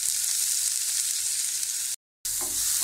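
Close, even sizzling hiss of chopped onion frying in hot oil, steady throughout apart from a brief cut near the end, with no talk over it.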